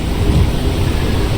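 Thunder rumbling through a storm at sea in the sailing game Sailwind, a short, loud, low roll over a steady hiss of rain, with no voices.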